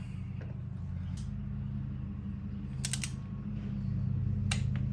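A torque wrench tightens a cam chain tensioner bolt on a Harley engine to 16, giving a few quick, close ratcheting clicks over a steady low background hum.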